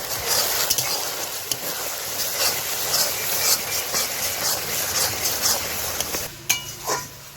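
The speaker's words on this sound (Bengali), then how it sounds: "রসুন বাটা দেওয়ার পরে আদা বাটা দিয়ে দেবো ভালোভাবে মশলাগুলো কষিয়ে দেবো" Garlic paste and ginger paste fry with spices in a pan for village-style chicken kosha, giving a continuous close sizzle with stirring scrapes and occasional utensil clinks against the pot.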